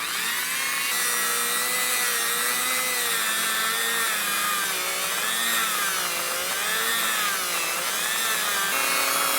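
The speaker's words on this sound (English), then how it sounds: "just dig out a little hole with this dental tool" A dental tool scrapes a small hole into metal during repair of a Browning Superposed Mallard shotgun, producing a continuous, close, high-pitched squealing scratch that wavers in pitch throughout.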